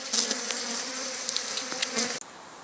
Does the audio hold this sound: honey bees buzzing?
yes